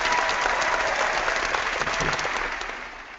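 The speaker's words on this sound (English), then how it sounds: "So there's the clapping." Steady dense applause from a crowd, a synthetic clapping effect from Google's Hangouts effects, filling the whole stretch at an even level before easing slightly at the end.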